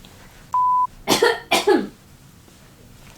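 A short electronic beep is followed by two harsh, close coughs in quick succession, then quiet.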